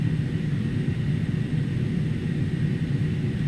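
Steady, dense broadband roar of an Airbus A300 heard from the wing view in a flight simulator, constant and unbroken with no talk.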